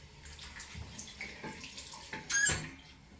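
Water running from a bathroom tap while rinsing off a beard, a steady splashing hiss that swells louder for a moment near the end, close by and alone.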